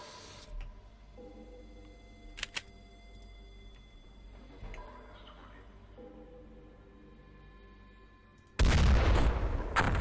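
Missile launch and explosions in The X-COM Files game: sparse faint ticks and a few small pops over a quiet stretch, then a sudden loud, broad roaring blast near the end.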